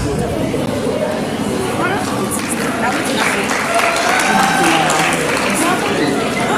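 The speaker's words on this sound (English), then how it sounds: "So a round of applause for him, right?" An audience applauds a quiz winner who answered correctly, steady dense clapping throughout with crowd chatter and voices mixed in.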